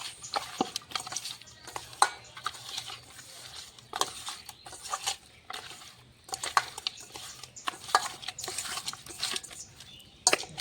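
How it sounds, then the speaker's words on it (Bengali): Raw rohu fish being mixed by hand with salt, turmeric powder and chilli powder, giving soft, irregular squelching and patting sounds with occasional light clinks, close and quiet, with no talking. "মেখে নেব মাছটা এখন।"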